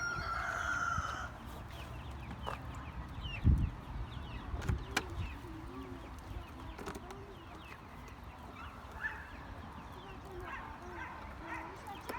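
Backyard coop chickens cluck and a rooster calls amid a dog's barks, scattered calls near and far across the span, with people talking quietly in Turkish throughout.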